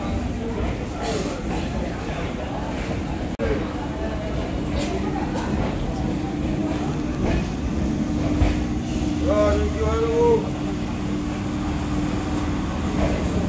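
A passenger train to Gangasagar pulls away at dawn and rolls on with a steady, close carriage rumble, while people talk throughout.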